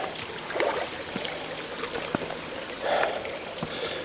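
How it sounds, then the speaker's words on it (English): Water rushing and splashing steadily, like a small waterfall feeding a creek, with a few brief clicks and knocks nearby. "Look over here, there's another waterfall, just there. Water goes through there and goes down"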